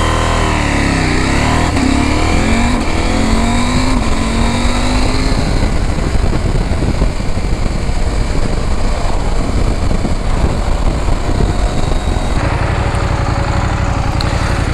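A KTM 790 Adventure motorcycle being ridden, its engine revving and pulling steadily, loud and close the whole time with constant rushing noise and no talking.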